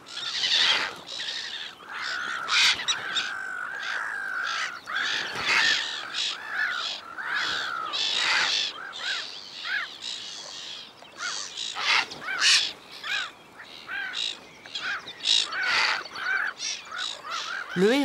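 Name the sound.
black-headed gulls calling while attacking a heron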